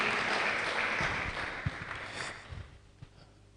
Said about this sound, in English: We can make the applause better than that, please, for Mr.